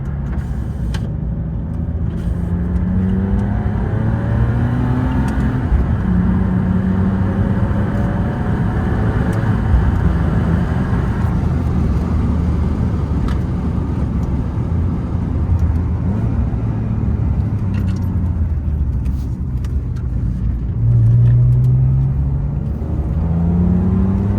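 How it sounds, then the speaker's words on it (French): BMW 330ci E46 with a swapped SMG 6-speed sequential gearbox, paddle-shifted through the gears: a steady, close engine drone with rising and falling revs as shifts occur, loud throughout with no talking. "je passe les vitesses avec le volant de la M3."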